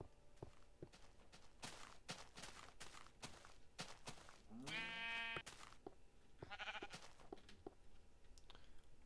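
A sheep bleats once in the Minecraft video game, a short wavering call heard amid steady clicking footsteps and block sounds, with no voices.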